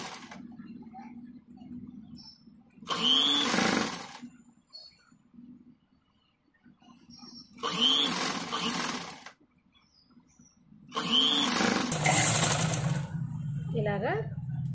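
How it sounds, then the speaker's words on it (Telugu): A sewing machine stitches a blouse neck design in three short, close bursts of rapid mechanical clatter, with quiet pauses and faint room noise between the runs. "ఇలాగా స్టిచ్ చేసేసుకున్నాము."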